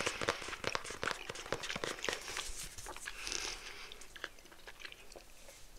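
Swedish candy is chewed close up, with a dense run of sticky, crunchy bites and mastication clicks that go on throughout, with no talking.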